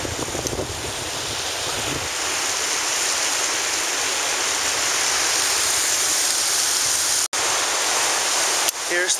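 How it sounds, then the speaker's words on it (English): Waterfall and rapids on the Mississippi River in downtown Minneapolis, a loud, steady roar of rushing water mixed with wind buffeting the microphone, continuous with no talking. "Here's the waterfall in Minneapolis on the Mississippi River. A lot of rapids down there."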